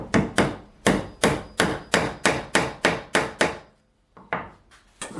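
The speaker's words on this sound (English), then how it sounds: "Hammer it in." Jarrah pegs are hammered into a rubberwood end-grain cutting board in about a dozen sharp, evenly spaced wooden knocks, close and loud, with a brief pause before the last few blows.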